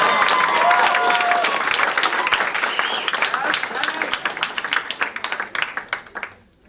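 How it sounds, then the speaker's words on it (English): Applause for a performer at a small live event, loud and full at first, then thinning into scattered individual claps that fade out, with some voices in the room. "Give Shally a round of applause."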